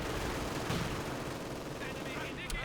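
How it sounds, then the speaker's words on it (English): MG42 machine gun fire in the real-time strategy game Company of Heroes 2, a dense continuous rattle of rapid shots heard fairly faint under battle noise and a commentator's voice. "penal battalion getting caught in the open by that MG42"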